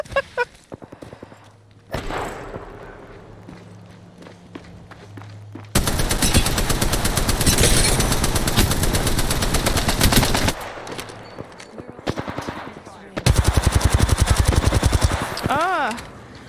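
Bursts of automatic gunfire from the video game Apex Legends rattle loudly in long sustained volleys, separated by quieter gaps where a voice talks.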